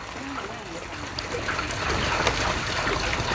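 Water pours steadily into a tank holding fish, a continuous close trickling and gushing that grows slightly louder over the few seconds, with no voices over it.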